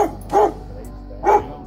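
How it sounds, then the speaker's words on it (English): A German shepherd dog gives two loud, close barks about a second apart, each short and sharp, with quiet room tone between them. "This German shepherd named Psycho was still a pup when its owner joined the military."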